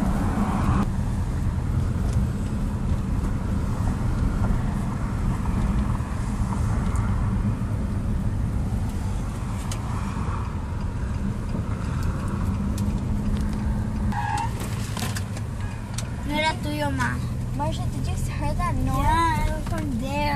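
Inside a car on a bumpy road: a steady low rumble of road and engine noise with jolts throughout, and voices toward the end.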